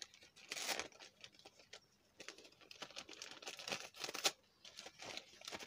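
Colourful gift paper from a spring Easter parcel is torn and crinkled open in several sharp bursts and rustling patches, close and fairly loud, with pauses between the tearing movements.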